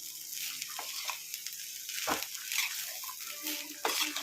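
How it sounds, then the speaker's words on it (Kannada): Oggarane tempering sizzles in a pan for a gorikayi (cluster bean) palya, a steady close crackling hiss dotted with small pops and a slightly louder burst near the end, with no voices. "ಈ ಪಲ್ಯ ಒಗ್ಗರಣೆ ಮಾಡ್ತಾಯಿದ್ದೀನಿ"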